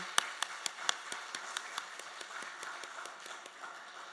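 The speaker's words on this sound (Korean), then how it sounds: "우리 수고하셨다고 감사하다고 우리가 밤사이 박수 한번 합시다" A church congregation claps together after a Thanksgiving Sunday service, a light, steady patter of hand claps that starts with sharper strikes and softens into a fainter, denser spatter, with no voices over it.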